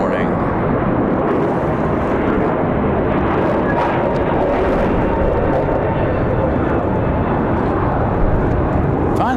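An airliner departs from Raleigh-Durham airport on a windy day, a loud, sustained jet roar filling the scene without a break, with faint clicks and wind buffeting over it.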